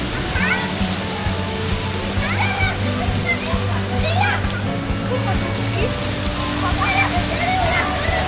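Water rushing and splashing at an amusement park water attraction, a constant loud wash with children's voices and chatter mixed through it.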